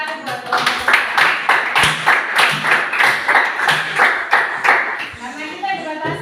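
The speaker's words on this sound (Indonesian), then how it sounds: "Tepuk tangan lagi sekali buat kelompok 4." A classroom of students claps for a presenting group, quick rhythmic hand claps repeating steadily for several seconds, close and fairly loud, with voices mixed in.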